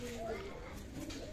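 A UAE Teddy high flyer pigeon coos softly in a few low, wavering notes while someone talks over it nearby.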